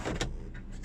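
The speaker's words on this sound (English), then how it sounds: "It's got a panoramic electric sunroof with electric sunblind." The full-length panoramic electric sunroof and electric sunblind of a Suzuki Vitara 1.6 SZ5 automatic hum as they move, a steady motor whirr inside the car, with no one speaking.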